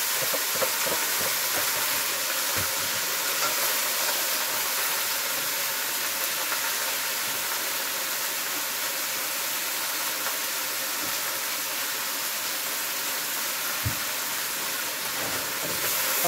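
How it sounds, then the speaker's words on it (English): Oxtail frying in a pot gives a continuous, even, bright sizzling hiss, close and steady from start to finish, with faint low knocks underneath and no talking. "I'm gonna let this fry up a little"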